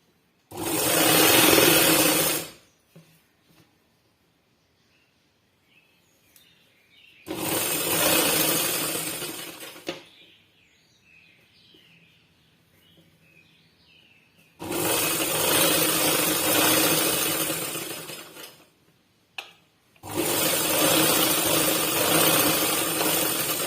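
Electric sewing machine stitching a sleeve onto a ready-made dress, running in four loud bursts of steady whirring separated by quiet pauses with faint handling noises.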